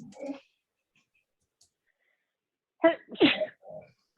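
A single sharp sneeze close by, followed moments later by a brief burst of voices after a stretch of near silence.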